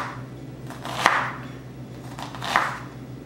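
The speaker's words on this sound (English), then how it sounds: "So I'll just take my onion and dice it." Two slow knife cuts dice an onion on a cutting board, each a soft crunch ending in a sharp thud, over a low steady hum.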